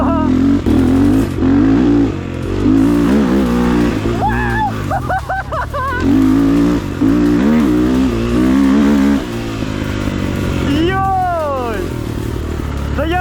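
Rottor Nemesis 250 motorcycle being ridden, its engine droning and revving up and down loudly and close, with someone talking over it at times.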